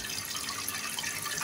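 Tap water running into a kitchen sink during dishwashing, a continuous close splashing hiss that stays steady throughout.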